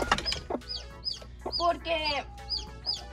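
Hens cluck softly and repeatedly while newly hatched chicks peep in high, rapid chirps all around, close and intimate, with someone speaking briefly at the start.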